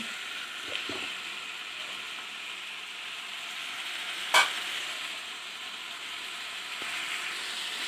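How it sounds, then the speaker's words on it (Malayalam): Tomatoes sauté in a pan for chicken biryani, a faint steady sizzle with a few soft stirring scrapes and one sharp clack of the spoon, close with no talking. "തക്കാളി ഒന്ന് നല്ലപോലെ വഴന്ന് വരട്ടെ"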